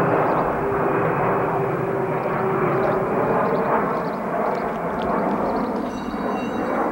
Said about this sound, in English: you can see this plane like right there and keep your eye